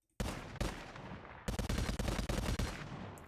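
Video-game gunfire from an M1911 pistol, BAR and StG rifles in a Call of Duty Zombies–style game, with loud, close single shots followed by rapid automatic bursts.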